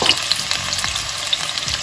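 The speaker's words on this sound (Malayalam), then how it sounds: "2 ടേബിൾ സ്പൂൺ ഓയിൽ ഒഴിച്ചു. അത് കഴിഞ്ഞിട്ട് കട്ട് ചെയ്ത ഈ ടൊമാറ്റോ ഇതിലോട്ടിടുവാണ്" Chopped tomato dropped into two tablespoons of hot oil for homemade pizza sauce, a loud, close, continuous sizzle with bits of crackle and stirring, with no talk.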